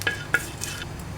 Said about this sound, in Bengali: সবগুলো ইনগ্রিডিয়েন্টস এখন একটু আমি ভালো করে ভেজে নেব।